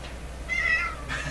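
A house cat gives a single short meow, fairly close, over a quiet low hum in a room, with a faint breathy sound just after it.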